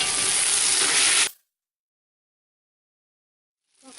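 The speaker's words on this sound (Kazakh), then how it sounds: "Оны да 15 минуттай қуырамыз." Eggplant, rinsed and squeezed, frying in a pot with a close, steady broadband sizzle that cuts off abruptly after about a second, leaving near silence before the hiss returns at the end.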